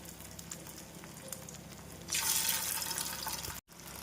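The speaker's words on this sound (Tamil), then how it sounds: "இந்த அளவு எண்ணெய் ஊற்றி நாம் பன்னீரை போட்டு விடலாம்" Paneer dropped into heated oil on a dosa tawa, a sudden loud sizzle bursting up after quiet kitchen background, crackling steadily for over a second before a brief dropout, no talk.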